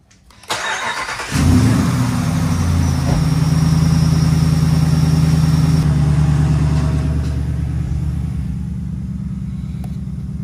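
A Ram Hemi truck engine cranks and catches, then settles into a steady, loud low rumble that idles evenly with no talking.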